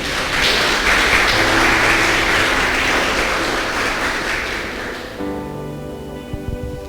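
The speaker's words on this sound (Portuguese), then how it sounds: "Será que você pode aplaudir a Deus por essa palavra?" Church congregation applauding after a sermon reading, dense clapping for about five seconds, then giving way to sustained instrumental tones with a few scattered claps.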